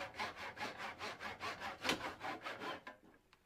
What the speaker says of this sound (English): we're going to go over to the little saw that I have over here and go ahead and make one of those